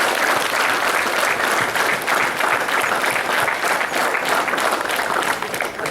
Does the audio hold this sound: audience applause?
yes